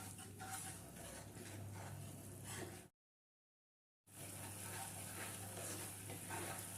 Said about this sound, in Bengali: নেড়ে নেড়ে চিনিটাকে গলিয়ে ভালো করে চিনির শিরাটা তৈরি করে নেব।